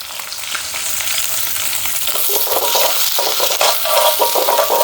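Onions, fenugreek seeds and fennel seeds fry in hot oil in a pan, a dense close sizzle and crackle that grows livelier over a few seconds, with light stirring scrapes and no talk.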